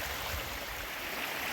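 Water rushes steadily through a gold sluice box outdoors, a close, continuous broadband gush with no pauses.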